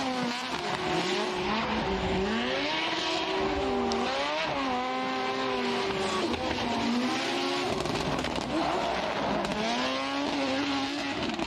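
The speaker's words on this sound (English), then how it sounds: "The replay by Jyamaken in his S15" Nissan S15 drift car at Okayama International Circuit during a Formula Drift Japan event, engine revving and wailing with shifting pitch through a slide, tire squeal mixed in, loud and close, no talk.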